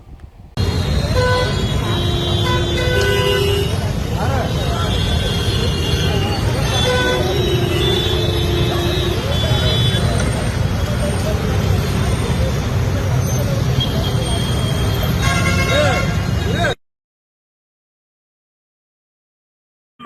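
A packed Vizianagaram bus pulls away through busy road traffic, engine droning steadily while several horns toot intermittently and crowd chatter and talk run underneath, ending abruptly in silence.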